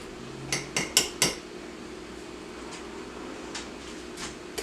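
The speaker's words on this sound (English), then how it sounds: "So then you're gonna mix it." A spoon clinks against a glass while stirring a michelada, four quick bright taps in a row near the start, then fainter scattered clinks over a low steady room hum.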